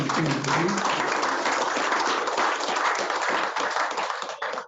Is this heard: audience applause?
yes